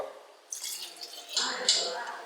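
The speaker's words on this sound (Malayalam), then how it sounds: "നമുക്കൊരു അരക്കപ്പ് വെള്ളം കൂടെ ഒഴിച്ചു കൊടുക്കാട്ടോ" Half a cup of water poured into beef curry for a kappa biriyani gives two short, close splashing bursts, the second stronger and trailing off, with a faint background hiss.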